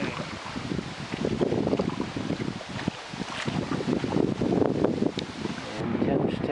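Wind blows on open water during a canoe paddle on the Clyde River, producing steady gusty buffeting and microphone rumble with some splashing, while voices talk over it now and then.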